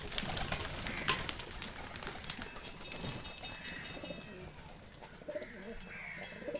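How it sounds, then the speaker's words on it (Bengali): Pigeons coo softly at a home pigeon loft, repeated low rolling calls fairly distant and faint, with light rustling and other small bird sounds around them. "এই কবুতরটা ভালো কবুতর।"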